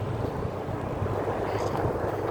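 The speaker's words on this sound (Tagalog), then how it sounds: "Mahangin." Steady wind buffets the microphone with a continuous low rumbling roar, loud and unbroken throughout.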